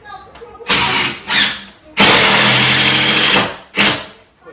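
A power drill driving screws into wall studs in a hallway, in loud bursts: two short whirs, then a long sustained run and a final short burst, close up.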